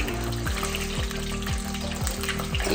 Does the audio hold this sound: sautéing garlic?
yes